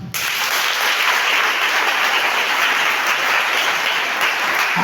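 A church congregation applauds loudly and continuously in praise of Jesus, a dense wash of clapping that starts abruptly and holds steady throughout.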